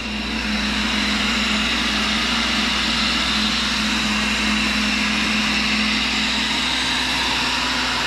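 A tool grinder and vacuum run continuously during endmill grinding, a steady motor drone layered with a breathy whooshing hiss, loud and unchanging throughout with no voices.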